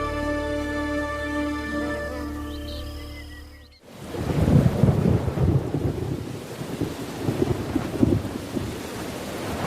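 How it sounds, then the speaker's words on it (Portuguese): Heavy rain pours steadily in a Brazilian wilderness, with a broad rumble of thunder rolling beneath it. Before the downpour comes in there is a short stretch of droning insect buzz. "E a chuva continua durante semanas."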